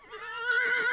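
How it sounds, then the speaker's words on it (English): A horse whinnies loudly and close as a sound effect, one sustained quavering neigh that rises in pitch and holds to the end. "Oh, what are you doing here, Howdy Horse?"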